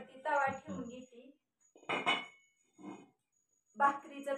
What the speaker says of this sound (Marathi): सगळ्यात अगोदर चुलीवरती तवा ठेवून घेते.